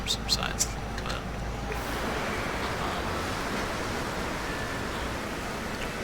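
Storm wind on a planet in No Man's Sky, a steady, broad rushing roar that holds at a constant level, with a few brief clicks at the start.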